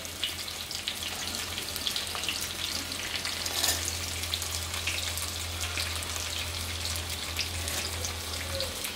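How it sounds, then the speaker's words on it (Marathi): Field beans, carrot and potato sautéing in a pan over a medium flame give a dense, continuous close-up sizzle with a low steady hum underneath, no voices. "तर आपण तो घेवडा परतायला सुरुवातीला टाकणार आहोत"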